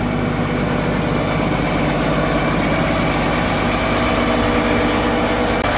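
A Fendt 1167 tractor's 16.2-liter MAN engine idles close by with a dense, constant low rumble and mechanical drone that stays level throughout.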